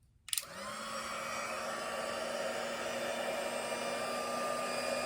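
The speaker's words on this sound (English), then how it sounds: "You use the heat tool to melt the powder." A heat embossing tool switches on with a click and then blows a steady, loud whirring rush of hot air while it melts embossing powder, running continuously and close without pause or talk.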